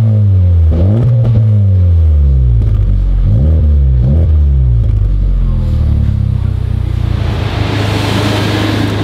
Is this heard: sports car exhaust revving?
yes